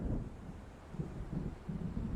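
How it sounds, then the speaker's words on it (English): Deep rumbling storm noise with low gusting wind in a dark lakeside night scene from the video game Alan Wake, a steady heavy roar swelling in slow waves, no voices. "It seems there's a storm coming."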